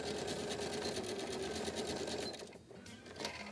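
A sewing machine runs steadily, stitching a straight seam, with a fast even mechanical whir that briefly slows and dips before resuming, close and alone.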